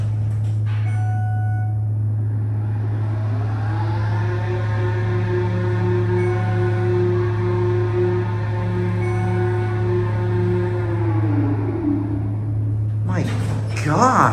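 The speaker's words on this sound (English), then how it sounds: "Listen to this motor, it sounds horribly obnoxious" A Schindler traction elevator motor at a natural sciences museum whines loudly with a layered harmonic tone that rises, holds steady for several seconds, then winds down, over a constant low hum.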